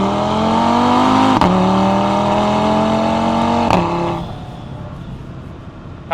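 Car engine revving hard through high RPM with exhaust valves opening, rising engine tone broken by two quick gear shifts, loud and close, then easing off to a lower cruising hum.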